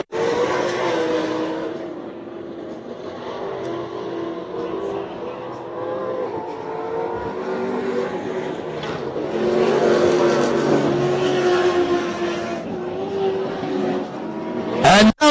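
An off-road race truck at full throttle roars steadily at a distance, its engine note rising and holding through a long pull at a dirt track, with crowd and ambience underneath.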